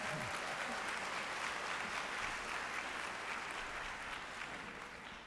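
A convocation audience at a medical school ceremony applauding a singer, with continuous even clapping from a large crowd that holds steady and tapers slightly at the close.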